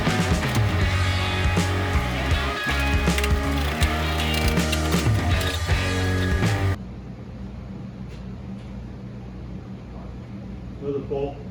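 A ratchet loosens 9/16 fender bolts on a 1971 Chevrolet Nova during a teardown, with rapid clicking bursts close by, then quieter workshop noise and a few faint knocks.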